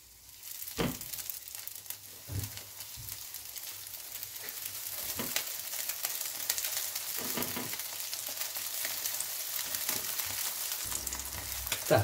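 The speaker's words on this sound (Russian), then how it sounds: "И обжариваю рыбу со стороны кожи." Trout fillet frying skin-side down in a pan of ghee and vegetable oil, a steady close sizzle with crackle building throughout, punctuated by a few soft knocks and scrapes.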